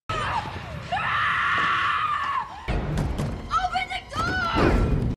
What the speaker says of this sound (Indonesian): Mendengar teriakan anak-anak yang ketakutan, Annabel segera mendatangi mereka